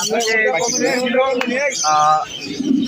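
Lovebirds at the Mirpur 1 bird market chirp in a dense, overlapping chorus of bright, rapid calls, loud and close, with a busy market din and faint voices underneath.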